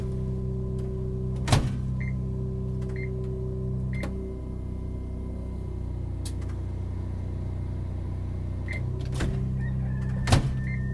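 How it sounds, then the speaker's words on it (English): An RV's microwave oven hums steadily while running during a test, its constant drone broken by a few sharp clicks and a faint repeating beep. "I'm going to test the microwave and the refrigerator."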